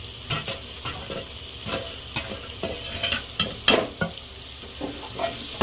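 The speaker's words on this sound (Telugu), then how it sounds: "బాగా కలుపుకొని వేయించుకోవాలి." Drumstick pieces with onions, salt, chilli powder and turmeric stirred in a frying pan, giving a steady close sizzle broken by repeated scraping strokes of a spoon over about six seconds.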